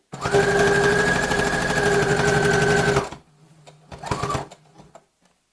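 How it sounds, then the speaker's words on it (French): A sewing machine stitches fabric for a reversible basket at a short stitch length of about 0.5, a loud, steady mechanical whir lasting about three seconds, followed after a pause by a second shorter burst of stitching. "la machine elle fait un sacré bruit, je sais"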